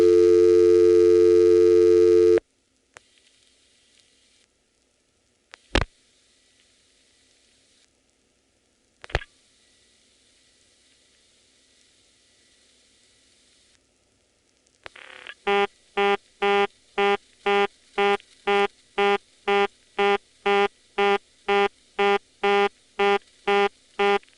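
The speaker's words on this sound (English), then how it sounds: "Vacant levels on the 690 incoming selector go to a very cute Stromberg reorder" Step-by-step telephone exchange with senderized XY switching: a burst of tone, then quiet line noise with a couple of sharp clicks as a vacant number is dialed, followed by a rapid, evenly pulsed Stromberg reorder tone repeating steadily to the end.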